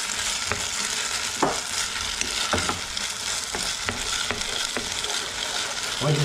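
Milk gravy stirred in a hot pan, a steady sizzle and bubbling hiss with a spoon scraping and clicking against the pan at irregular intervals, close and continuous with no talk.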